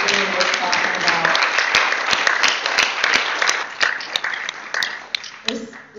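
Sustained applause from the audience at a League of Women Voters county annual meeting, a dense wash of many hands clapping steadily for about six seconds before thinning toward the end.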